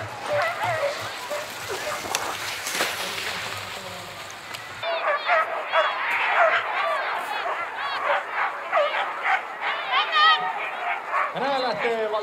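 Sled dogs bark and yip excitedly at a dog sled race in Heinola, a dense chorus of nearby barks amid crowd noise and people talking.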